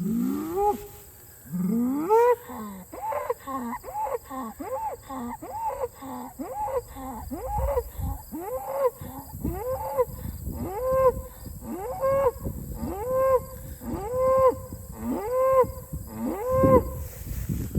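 A bull out in a pasture bellows again and again, a long series of rising, moaning calls, loud and close, while pawing the ground.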